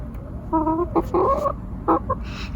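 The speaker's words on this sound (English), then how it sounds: "This is our chicken, Neil deGrasse Tyson." A pet chicken clucks indoors at bedtime, a few close, clear clucks and short calls over a low steady background hum, with no talking.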